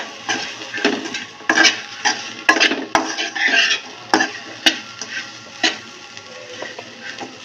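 Sweet corn roast fry being stirred in a pan with salt and chilli powder, a spoon scraping and clinking repeatedly in an irregular rhythm over a faint background sizzle, close and fairly loud.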